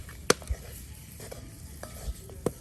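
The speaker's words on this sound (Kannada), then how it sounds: "ಮೊಟ್ಟೆನ ಹಾಕ್ತಾ ಇದ್ದೀನಿ. ಜಸ್ಟ್ 1 ನಿಮಿಷ ಇದನ್ನ ರೋಸ್ಟ್ ಮಾಡಿದ್ರೆ ಆಯ್ತು." Eggs roasting in a pan for a dhaba-style egg butter masala, a faint sizzle under a few sharp clinks and scrapes of a spatula against the pan, quiet and close with no talking.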